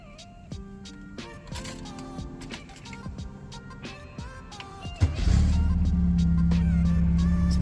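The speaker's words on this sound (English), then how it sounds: "Let's start her up." A 1968 VW Beetle with a GT dual-tip exhaust cranks after some key and cabin clatter, then catches at about five seconds and settles into a loud, steady air-cooled idle rumble close by.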